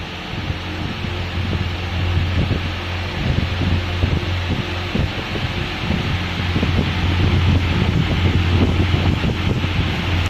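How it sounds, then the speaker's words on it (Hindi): An electric fan runs steadily, a low, constant hum beneath a broad airy whoosh of moving air, near and unbroken throughout, with no voices. "मैं दोबारा पंखा चलाता हूँ।"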